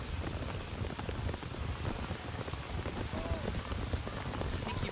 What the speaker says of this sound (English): I think you might actually be able to hear the rain. It is just pouring here in Cary, North Carolina.